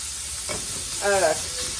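Bacon fries in a pan with a steady close hiss of sizzling fat, a soft scrape of stirring partway through, alone and fairly loud.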